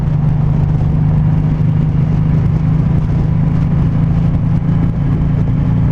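A 2019 Suzuki M109R cruiser motorcycle holds a steady, loud engine drone while riding at around 3,000 rpm, with a constant low hum and no change in pitch or volume. No voices.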